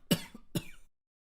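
A person imitates violent coughing with two sharp, harsh coughs close to the mic, spaced about half a second apart, then silence.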